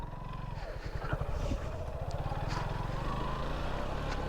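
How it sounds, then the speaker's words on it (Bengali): A Suzuki Gixxer motorcycle straining up a steep, dusty off-road hill with a pillion rider, its engine a low rapid thrum with rising revs and faint clatter, close by. "এই যে মেরিঞ্জা ভ্যালিতে উঠতেছি আমরা বাইক নিয়ে"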